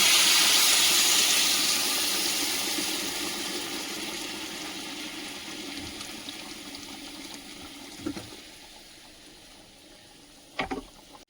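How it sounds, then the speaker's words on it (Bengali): Hot water poured into a simmering curry gives a loud rushing hiss that slowly fades into a low bubbling boil, with a couple of brief clinks near the end and no talking. "গরম জলটা দিলে সঙ্গে সঙ্গেই তরকারি ফুটতে থাকে"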